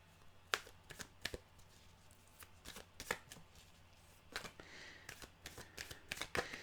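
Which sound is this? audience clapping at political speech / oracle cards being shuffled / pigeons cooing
oracle cards being shuffled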